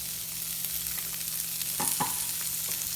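Chorizo fries in a pan with a steady, soft sizzle, punctuated by a couple of louder crackles and pops near the end, with no talking.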